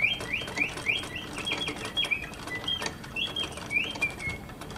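Several short rising whistle-like chirps from slide whistles set inside bird figures, imitating bird calls, repeat irregularly over a steady background hiss.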